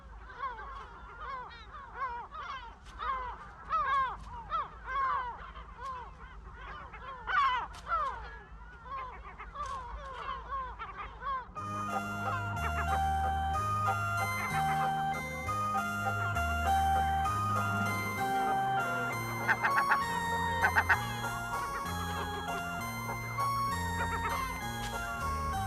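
Gulls on the island of Cabrera give repeated harsh, honking cries in irregular bursts, fairly faint, before steady music takes over for the second half.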